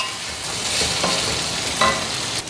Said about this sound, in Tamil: இப்போது தண்ணி எதுவும் சேர்க்காம இருக்கிற எண்ணெயிலேயே நம்ம பெரட்டி போட்டோம்னா அது வெந்துடும்